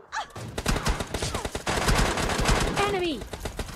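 Bursts of automatic gunfire from a battle royale video game, rapid cracking shots in quick clusters, with a voice briefly heard among the firing.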